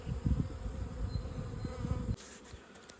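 Honey bees buzz thickly at an opened hive during a colony inspection, a dense, steady close-up drone that cuts off sharply near the end and leaves only a faint hum.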